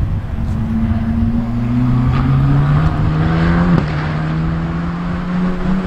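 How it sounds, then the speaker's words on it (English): A steady engine drone with a rising, shifting pitch as Formula 3 single-seater race cars circle nearby at Oulton Park circuit, loud and continuous with no talking. "At the moment, some F3 type single seaters are going around."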